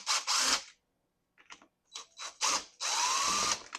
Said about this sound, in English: we're going to go ahead and just take all these screws out